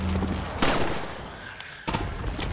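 Gunfire in Resident Evil 4: a few sharp, close shots cracking out over about two seconds, with a brief tail of echo between them.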